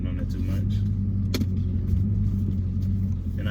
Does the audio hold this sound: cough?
no